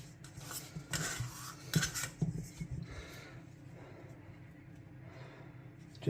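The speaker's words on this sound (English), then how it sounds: "with this now, and the palette knife, and the softened butter" A palette knife spreads softened butter for a chicken, ham and leek pie, making soft scraping and light tapping strokes that are busier at first and then fade to a quiet rub, with a faint voice in the background.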